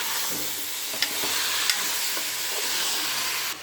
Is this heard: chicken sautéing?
yes